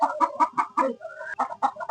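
A hen clucks continuously and rhythmically in a string of short, loud, close calls, heard among newly hatched katé chicks. Nothing else is heard.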